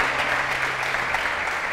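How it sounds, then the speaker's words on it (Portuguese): Congregation applause during a sermon, a brief, dense, even burst of clapping from a crowd. "Dá um aplauso a ele, pelo amor de Deus."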